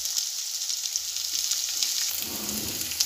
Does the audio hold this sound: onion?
yes